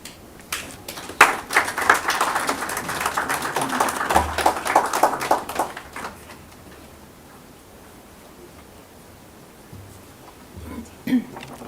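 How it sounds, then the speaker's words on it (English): Clapping from mourners at a funeral service, a scattered burst of hand claps that fills the first half and then fades to a quiet room with faint stray sounds. "there's nothing wrong with some applause at a funeral"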